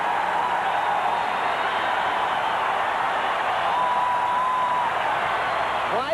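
An arena crowd at the 1991 Tournament of the Americas game between the USA Dream Team and Cuba roars after a Drexler block. The wide, sustained cheering stays steady and dense throughout.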